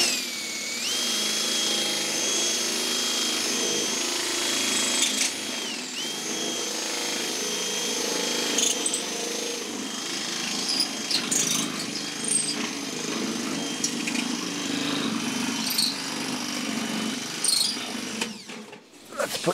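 A drill fitted with a Malco cutting attachment slices through sheet metal in a continuous high-pitched whine with grinding rasp, close and loud, briefly dipping before a final clatter at the end.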